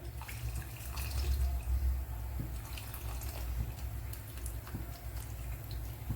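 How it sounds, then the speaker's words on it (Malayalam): Tamarind water is squeezed and poured into a pot of Udupi temple-style sambar, a low continuous splashing trickle with faint drips, close and fairly quiet, with no talk. "ഇനി ഇതിലേക്ക് ഒരു നെല്ലിക്കയുടെ വലുപ്പത്തിലുള്ള പുളി പിഴിഞ്ഞ് ഒഴിച്ചു കൊടുക്കുക"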